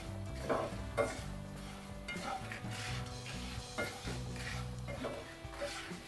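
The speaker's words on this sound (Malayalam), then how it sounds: "ഇത് ഇടയ്ക്കൊന്ന് ഇളക്കി കൊടുക്കണം. കാര്യം ചൂട് പാത്രമല്ലേ, കരിയും." Prawn pieces cook in a hot pan while being stirred, giving a soft continuous sizzle with repeated scraping and clinking of a utensil against the pan, fairly quiet and close.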